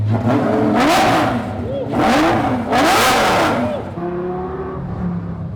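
A Lamborghini Gallardo engine with a newly installed world-record build warms up and revs in three loud, rising bursts, then settles into a steady idle, with a voice speaking over parts of it.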